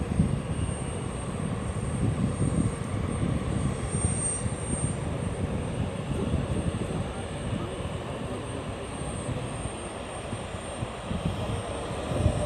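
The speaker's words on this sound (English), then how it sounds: "we have Bermuda Air taxiing back to the apron, as you can see" A Bermuda Air airliner taxis back to the apron at the Anguilla airport, its engines giving a steady, moderately loud droning whine with a low rumble throughout.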